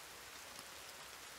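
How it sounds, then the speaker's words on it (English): Rain falling in the forest survival video game The Forest, a steady even hiss of dense drops throughout, with no voices over it. "Oh, great. It's raining."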